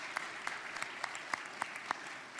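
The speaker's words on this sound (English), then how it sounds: "We should give them a round of applause." Audience applause at a political event, steady dense clapping throughout with a few sharper individual claps standing out, moderately distant and fairly soft.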